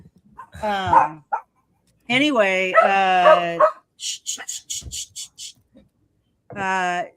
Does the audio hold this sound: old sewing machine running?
no